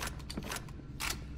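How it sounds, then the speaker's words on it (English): A weapon reloading in the video game TimeShift, a short run of mechanical clicks and metallic clacks over steady game background noise. "Alright, let's reload."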